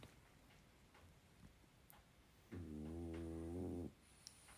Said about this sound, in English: you'd hear my dogs laying on the couch while I'm recording this, snoring away